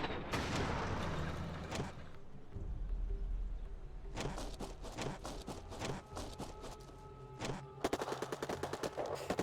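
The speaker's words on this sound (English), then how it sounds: "I hear you shooting." Insurgent gunfire in the strategy game Rebel Inc, scattered bursts of sharp shots and distant booms, sparse at first and then crowding together in quick volleys near the end, fairly quiet overall.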